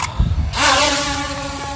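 A small R101/F198 toy drone spins up for takeoff, its rotors rising into a loud, high buzzing whine with a steady tonal hum close by.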